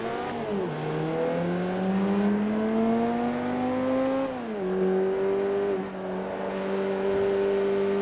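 The engine of an all-wheel-drive Golf R roars loudly in Forza Motorsport 3 on the Nordschleife, revving up through the gears with clear shift drops, steady and close, with no talking over it.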